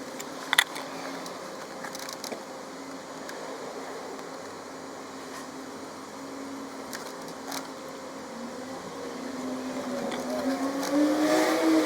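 A 2017 Toyota RAV4 engine idling after being started, a faint steady low hum with a brief click near the start and a slight rise toward the end.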